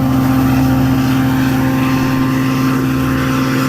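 Long Island Rail Road train 6095 pulling away from Speonk station, a loud steady engine drone with strong low harmonic hum held throughout, close by and without voices.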